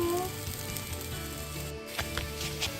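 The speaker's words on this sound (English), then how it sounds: "Gotta see the oil popping around the edges" Keto batter fries in oil in a pan, with a steady close sizzle and a few sharper pops near the end.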